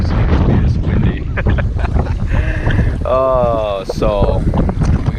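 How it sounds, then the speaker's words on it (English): Gusty wind roars across the bank of Coyote Lake while bass fishing, loud and continuous, with a voice briefly talking partway through. "I was not expecting it to be this windy."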